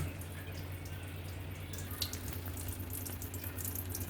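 Steady running and sloshing water as potatoes are washed in a bowl under a tap, continuous and close.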